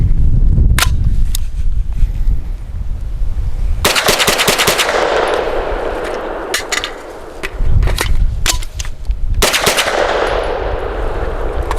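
Bursts of gunfire from a Stribog pistol-caliber carbine fed from curved magazines, loud close rapid shots in several strings separated by short pauses, with no talking.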